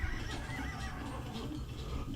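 A horse neighs repeatedly in the Age of Empires II Definitive Edition strategy game, with whinnies and clip-clop hoofbeats over a dense background of battle noise at moderate volume.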